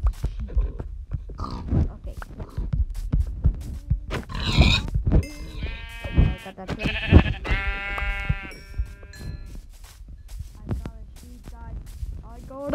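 Several sheep bleat repeatedly in the Minecraft video game, their wavering cries close and loud amid scattered grunting and clicking game noises.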